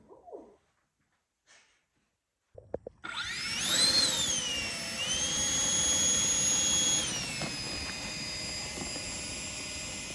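A 90mm model jet turbine at an airfield spools up with a rising high-pitched whine, settling into a loud steady roar after brief quiet and a few faint clicks.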